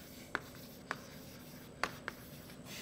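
Handwriting during a basic blockchain course lecture: four short, faint scratchy strokes spaced irregularly over quiet room tone, with no one talking.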